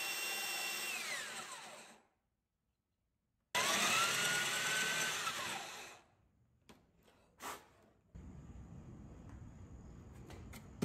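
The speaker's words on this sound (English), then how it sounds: "I really had fun drilling the cavity for that hinge to sink into" Two loud bursts of a power drill whine and bog down as the bit bites into wood, drilling a cavity for a hinge, separated by silence, then quieter clattering.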